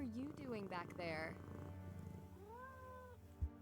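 A cat in the Nancy Drew video game gives a soft purr with a few meows under a voice, which greets it over a steady low hum of game ambience.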